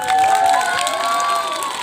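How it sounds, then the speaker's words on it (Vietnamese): An outdoor crowd of highland villagers in Vietnam cheering and applauding at a welcome event, a loud sustained mix of clapping and shouting voices with whistle-like high cries. "Vỗ tay, vỗ tay,"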